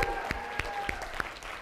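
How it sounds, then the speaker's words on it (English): An audience at a company core-values training event gives its leaders a short round of applause, a dense steady clatter of hands in a room with no speech over it. "Let's give your leaders another round of applause"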